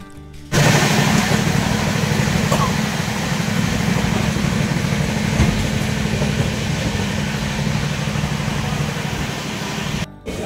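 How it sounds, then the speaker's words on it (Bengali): A train pulls into Parasnath station in Jharkhand around 4 a.m. during heavy rain, a loud continuous rumble and roar that starts abruptly and holds steady for about ten seconds before cutting off. "ট্রেন ভোর 4টের সময় ঢুকছে পরেশনাথ স্টেশনে"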